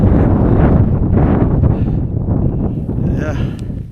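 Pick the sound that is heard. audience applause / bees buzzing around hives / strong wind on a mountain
strong wind on a mountain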